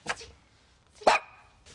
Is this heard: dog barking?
yes